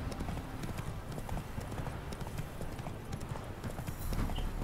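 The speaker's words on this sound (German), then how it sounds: "So, jetzt mal ein bisschen reiten." Horse hoofbeats while riding in The Witcher 3: Wild Hunt, Hearts of Stone, a steady galloping clip-clop beat close up over a busy game ambience.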